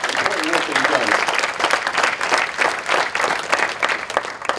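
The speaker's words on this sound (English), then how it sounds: "So I really want to give this guy a big round of applause." An audience at a youth summit applauds, steady sustained clapping from many hands filling the room at close range.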